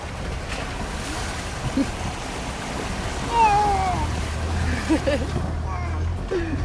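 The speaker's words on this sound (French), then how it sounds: "Regarde, on traverse la rivière." A vehicle rumbles steadily through a shallow river ford in the Icelandic Highlands with a constant splashing wash, while voices speak over it.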